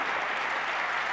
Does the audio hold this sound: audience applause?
yes